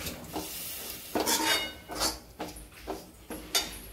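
A bell pepper curry is stirred and mixed in a pan, with a series of clinking scrapes of a spoon against the metal, about six distinct strokes over a soft background sizzle.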